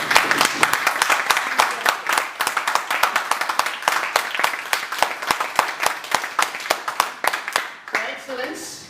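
A Toastmasters audience claps with sharp, distinct hand claps that run in a rhythmic, fairly loud stream for several seconds, then thin out and stop as a voice begins speaking at the end.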